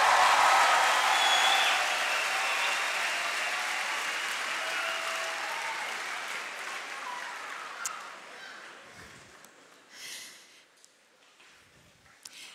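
Loud applause from a crowd gradually fades away, leaving scattered claps and faint noises toward the end.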